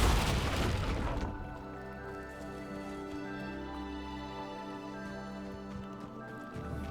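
An Incendio fire spell is cast at a pyre in Hogwarts Legacy, giving a sharp magical burst followed by a sustained, humming tonal roar of flame that hangs on for several seconds, close and fairly loud, with no talking.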